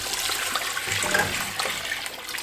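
Two litres of water poured into a cooking pot for beef yakhni pulao, a steady close rush and splash of liquid that continues throughout without any talking.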